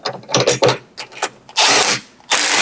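An impact driver with an 8-point socket spins a drawbar out of a belt grinder, giving several short rattling bursts and then two longer loud whirring runs close by.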